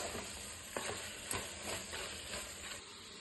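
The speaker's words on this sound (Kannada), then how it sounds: "ಟೊಮೊಟೊ ಚೆನ್ನಾಗಿ ಮೆತ್ತಗಾಗೋವರೆಗೂ ಹುರಿತಾ ಇರಬೇಕು." Tomatoes and boiled peas frying in a pan, with faint, steady sizzling broken by several soft scraping stirs.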